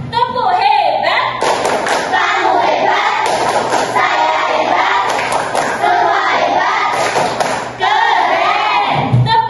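A class of children claps out the 'tepuk hebat' rhythm, bursts of synchronized hand claps with thumping accents, loud in the room, accompanied by chanting and talk.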